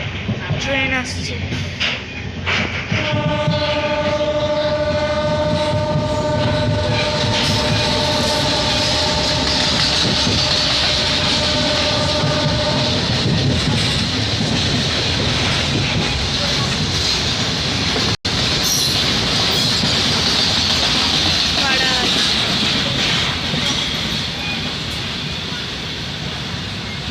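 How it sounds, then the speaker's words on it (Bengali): A MEMU passenger train pulls into a station on the Asansol to Bardhaman line, sounding a long, loud horn over the steady rumble and clatter of wheels on rails, which continues as the train rolls past close by. "ট্রেন আসছে।"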